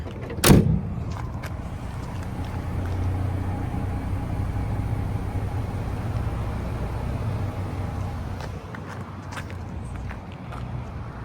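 The slow-release tailgate of a 2023 Jeep Gladiator Rubicon opens with one sharp clunk near the start, followed by a long, low, steady hum and a few faint clicks toward the end.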